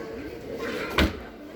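An IKEA Malm bedroom dresser drawer gives a single short knock or thud as it slides shut, heard once against faint room noise.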